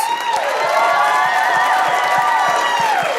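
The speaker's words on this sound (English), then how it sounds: "Please give a round of applause for Daniel Oliveras." A crowd at a business awards event cheers, whoops and shouts loudly, with some clapping beneath a dense roar of voices.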